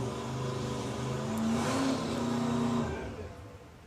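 A hot rod drag racing car engine runs loud and close, revving up to a peak and then easing off as it settles toward idle at the end.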